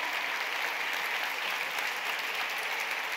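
An audience claps steadily throughout, a dense, even wash of applause without breaks that stays loud and full from start to finish.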